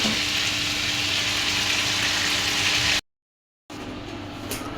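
Chicken meat fries in a pan with a steady, loud hiss and sizzle that cuts out briefly to silence and then resumes.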